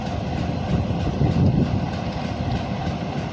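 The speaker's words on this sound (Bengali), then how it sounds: "21 আপ পদ্মরা কমিউটার ট্রেন।" The 21 Up Padmaraga commuter train rolls along the loop line at Kamarpara railway station, a steady low rumble of wheels on rails with soft clickety-clack, close and continuous.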